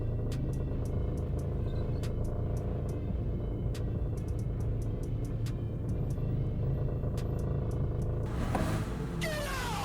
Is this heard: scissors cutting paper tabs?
no